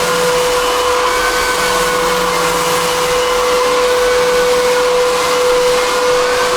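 Dustless floor sanding machine refinishing a Brazilian cherry hardwood floor in a Newport Beach home, a loud continuous droning whir with a steady high tone, running alone without pause throughout.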